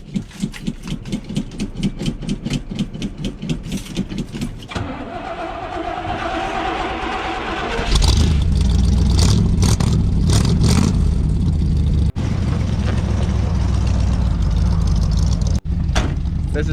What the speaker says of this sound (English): First thing we're gonna do here is start her up. Gotta go grab the keys. This is a cold start.